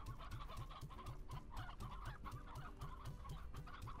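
Chickens clucking in the Slime Rancher video game, a busy flock of hens giving constant overlapping clucks and short calls at steady close range, no voices.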